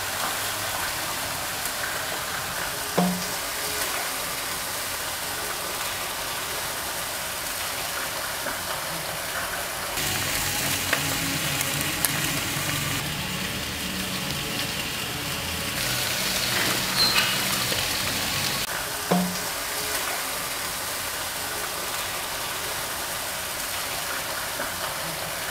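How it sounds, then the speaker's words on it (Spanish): A kitchen blender whirs steadily while blending plum sauce for pork loin, a continuous washy motor hum that shifts in tone midway as the blades churn the liquid, with no talking. "Es importante dejarla licuar por varios minutos."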